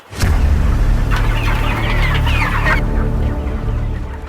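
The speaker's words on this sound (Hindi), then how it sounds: "ये मुर्गियां देख रहे हैं आप?" Several chickens cluck loudly and steadily nearby, a busy flock chattering over a low rumble of background noise.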